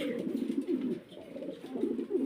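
Pigeons of a Roman breed, among others, coo repeatedly in a loft, the low rolling calls close and fairly loud and continuing through the whole stretch without any talk.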